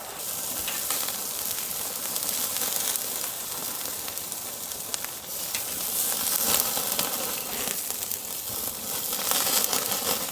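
A thick ribeye steak sizzles steadily over a live wood fire, a loud close crackling hiss running unbroken with occasional sharper pops and spits.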